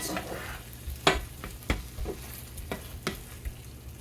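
Meat sauce simmering and cooking down in a pan, a soft steady sizzle and bubbling with occasional scraping stirs and light utensil taps, close and without talk.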